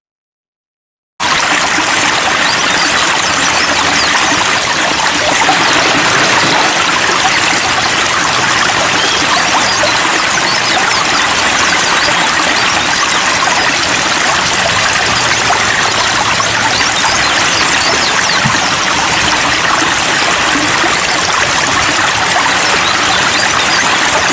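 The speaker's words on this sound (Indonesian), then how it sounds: "kalian akan mendengarkan suara gemercik air yang berasal dari sungai, kemudian kicauan burung dan seterusnya" River water babbles and rushes in a steady, loud, continuous stream after a brief moment of silence at the start; birdsong is not distinctly evident above the water.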